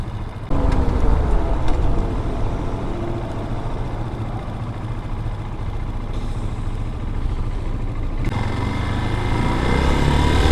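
A small Chinese motorcycle engine with a newly fitted Nibbi PWK carburetor idles at about 1200 RPM, a steady continuous drone close by that rises slightly in level toward the end, with no voices.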